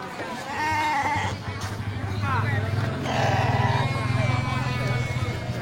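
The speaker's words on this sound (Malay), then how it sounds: "ini domba semuanya ini kan terlihat segar-segar" Sheep bleat and cry repeatedly at Grogol animal market among a crowd of livestock, loud and close, with someone talking over the steady animal calls.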